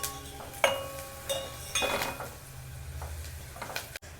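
Fried onions, green chillies and turmeric are stirred in a pan, giving soft scraping and metallic clinks at an uneven pace over a quiet sizzle, close by.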